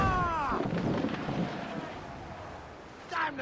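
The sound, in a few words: ship cannons firing in video game Assassin's Creed IV Black Flag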